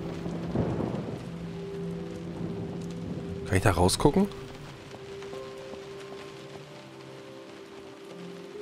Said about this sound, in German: Der Regen und sowas gefällt mir richtig, richtig gut.